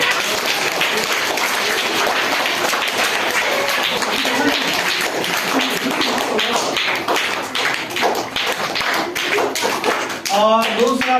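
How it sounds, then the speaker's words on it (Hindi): An audience at a Saraswati Puja prize-giving claps loudly and continuously, dense rhythmic applause that tapers off near the end as a voice begins to speak. "देवी जी के लिए ताली कौन कौन बजाएगा?"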